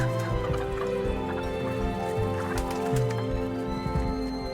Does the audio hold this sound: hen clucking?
yes